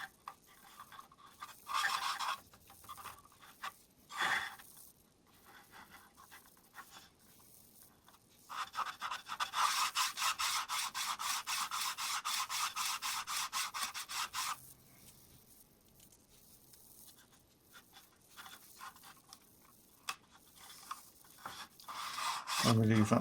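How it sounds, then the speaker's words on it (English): Rubbing across a laser-cut wooden Victorian coach surface to clear excess glue, heard as bursts of dry scratchy friction, with a long steady rubbing stretch in the middle, close and fairly quiet. "And just rub any excess glue off the surface."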